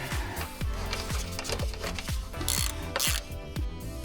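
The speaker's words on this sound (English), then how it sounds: "Tighten up this bolt with a 14." A hand ratchet tightening a 14 mm bolt on the belt tensioner of a Mazda Miata, giving rapid clicking strokes in steady repeated bursts, close and crisp, with no talking.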